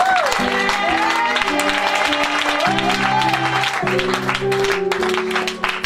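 A church congregation applauds and cheers in acclaim of God, sustained clapping and crowd noise under steady organ or keyboard chords, loud and continuous throughout.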